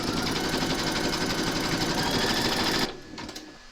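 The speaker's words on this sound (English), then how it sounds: "Pop your hoop into your machine and stitch round number 1 to give you your placement outline for your batting." Embroidery machine stitching a placement outline on stabiliser in a hoop, a loud steady rapid needle chatter close by that stops abruptly near the end, leaving quiet clicks.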